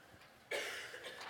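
A single sharp cough rings out from a listener during a church service, a sudden burst that trails off against a quiet room, with no speech.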